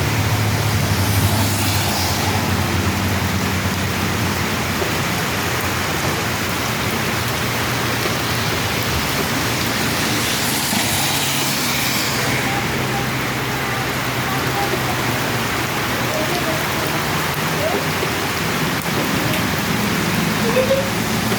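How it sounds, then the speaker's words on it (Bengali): Steady, heavy rain pours down without letup, a dense wash of hiss filling the whole stretch, with no clear talking over it. "দেখেন এখনো বৃষ্টি হইতেছে।"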